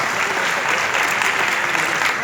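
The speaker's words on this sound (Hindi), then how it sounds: "तालियों में कंजूसी ना करें।" Audience applause at a public event held during Chief Minister Vasundhara Raje's visit to Jodhpur, a dense, sustained clatter of many hands clapping together, fairly loud and steady with no gaps.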